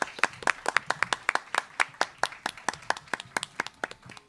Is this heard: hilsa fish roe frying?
no